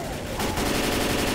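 Rapid automatic gunfire in the co-op zombie shooter Left 4 Dead, a dense continuous burst of shots lasting just over a second at steady loudness.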